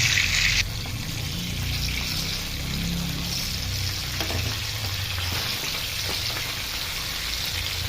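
Pabda fish frying lightly in oil in a home kitchen gives off a steady, close sizzle with soft crackles, plus a few faint stirring or handling sounds over it.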